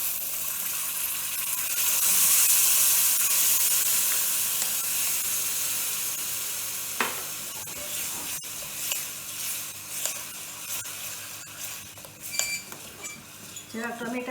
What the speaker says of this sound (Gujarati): હવે ટમેટાનું જ્યુસ નાખું છું.